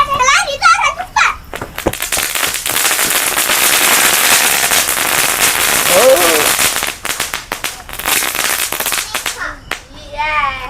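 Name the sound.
firecrackers being set off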